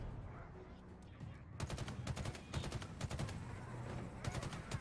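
Rapid automatic gunfire from Halo Infinite comes in several quick bursts of sharp, evenly spaced shots after a quiet start, moderately loud with short pauses between volleys.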